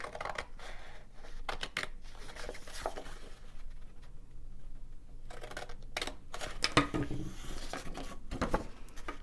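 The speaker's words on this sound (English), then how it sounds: "I'm going to just go ahead and cut right on that score line." Scissors cut paper along a score line in short bursts of crisp snipping, with a quiet pause between the groups of cuts, close up and with no talking.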